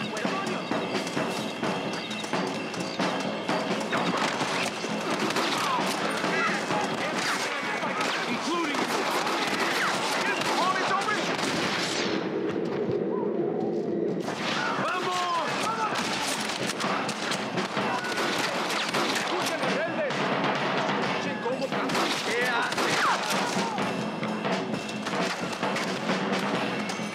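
Gunfire in the Western game Red Dead Redemption, with repeated loud shots and impacts mixed among hoofbeats and other busy game sounds throughout, and a brief quieter gap partway through.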